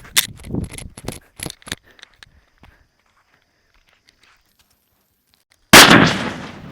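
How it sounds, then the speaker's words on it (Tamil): A jute bomb firecracker, a Diwali country cracker, goes off in one loud, close blast after a few seconds of light scuffing and shuffling footsteps, its boom trailing off into a rough decay. "சணல் குண்டு இருக்குது இதை வந்து வெடித்து பார்ப்போம்"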